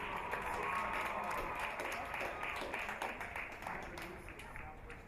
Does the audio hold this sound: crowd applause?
yes